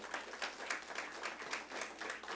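A church congregation claps together in a steady, rhythmic offering of applause, continuous and moderately distant, with no voices standing out.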